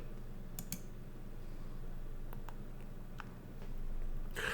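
A computer mouse clicks a few times in a quiet room while logging in with Spotify, sharp isolated clicks spaced irregularly over faint background hum.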